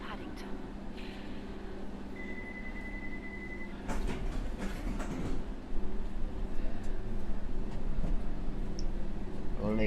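A London Underground Circle Line train in the World of Subways game rumbles and clatters steadily, with a brief tonal whine partway through. An automated announcement voice speaks over it.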